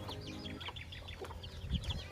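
Soft peeping and clucking from a crowd of young chickens in a crowded coop, overlapping chirps with a few louder low clucks near the end.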